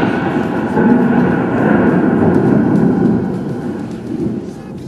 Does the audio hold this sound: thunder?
yes